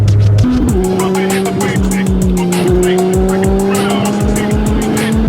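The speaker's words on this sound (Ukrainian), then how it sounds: "Ще в матізі, коротше, вихлоп відірвався" A loud, raspy Daewoo Matiz engine with a detached exhaust roars steadily with a rough, blatting exhaust rattle, pulsing rapidly as it drives along.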